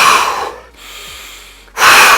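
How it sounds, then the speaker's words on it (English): A person takes deep breaths close to the microphone: a loud, rushing inhale, a quiet pause, then another strong breath, with no talking. "you take these deep breaths"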